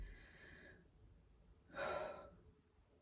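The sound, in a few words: deep breath in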